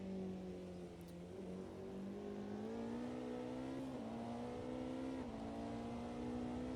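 Race car engines in a racing video game during a 24 Hours of Le Mans endurance race, droning at high revs, a sustained tonal whine that shifts pitch as gears change, fairly quiet and steady throughout.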